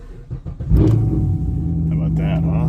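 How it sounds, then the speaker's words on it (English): A car engine with a newly changed exhaust roars up loudly and then holds a steady, deep exhaust rumble close by, with a voice faintly audible early on. "So I changed out the exhaust on this."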